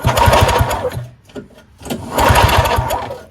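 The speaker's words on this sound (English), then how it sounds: "I connected the spark plug back onto the ignition coil, just to see if there's any spark" A seized Yard Machines single-stage snowblower engine being cranked with its spark plug reconnected gives two loud, close bursts of rapid chugging and sputtering, split by a short quiet pause.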